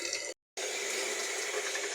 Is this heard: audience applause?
no